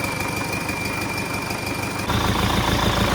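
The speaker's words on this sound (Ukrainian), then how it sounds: "Ну свистить, звісно, прикольно з турбінкою." An MTZ-82 tractor engine fitted with a TKR 6 turbocharger runs steadily nearby, a low idling rumble with a high steady turbo whistle over it, then the engine note rises and thickens near the end.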